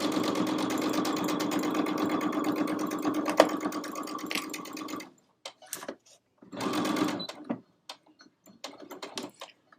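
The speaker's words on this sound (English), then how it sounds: "I'm going to do a couple of stitches and back stitch to do that stop stitch" A sewing machine stitching a stocking runs in a fast steady whir for about five seconds, then stops and gives short bursts of backstitching with pauses between them.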